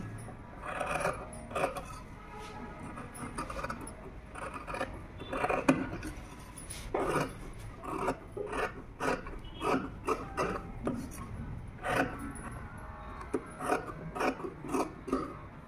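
Jacket fabric is cut after drafting, with a long run of quiet, close snipping and scraping strokes in an uneven rhythm, and no talk.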